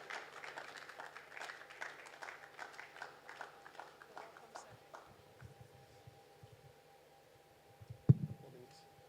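A conference audience gives scattered, fairly distant applause that thins out and fades over several seconds, ending with a sharp close thump like a microphone being handled.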